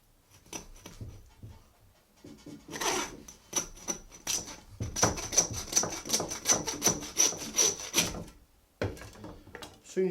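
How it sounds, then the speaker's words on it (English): Hand saw cutting through the loin bone of a roe deer to make double loin chops, heard as quick rasping back-and-forth strokes that build to a rapid steady scraping, close and fairly faint. "and then I'm just going to get my saw in."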